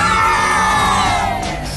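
A crowd at a group event cheers and shouts loudly and without a break, many voices yelling and whooping together up close, easing off slightly toward the end.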